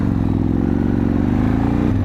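A motorbike engine drones loudly and steadily up close while riding through city traffic in Leicester, with a rough rumble and a slight rise in pitch near the end.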